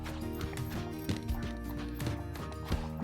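A gaited horse trotting, with regular hoofbeats repeating in a steady rhythm, close and fairly clear over a constant background.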